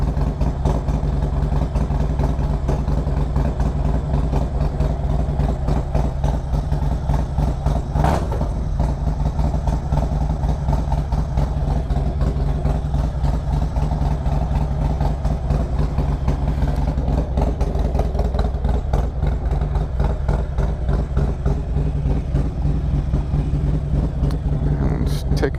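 A motorcycle engine fitted with a performance cam idles steadily with a lumpy, loping rhythm, close and continuous throughout, with a brief sharper blip partway through.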